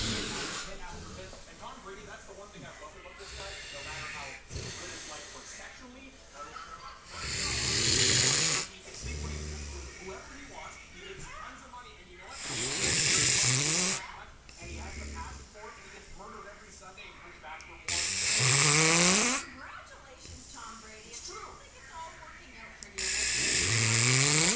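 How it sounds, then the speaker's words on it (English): A man snores loudly like a pig in a quiet room, with several long, harsh rasping snores spaced several seconds apart over a faint background hiss. "snoring like a pig"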